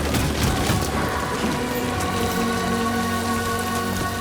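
Steady rain pours across the whole stretch in the video game Death Stranding 2, a dense even hiss of drops with faint low rumbles beneath, no voices.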